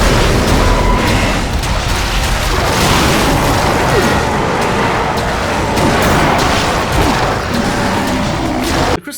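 Crystallizer gun from the shooter Wrath: Aeon of Ruin firing continuously, a dense loud barrage of booming blasts and bursts that fills the whole stretch before cutting off abruptly at the end.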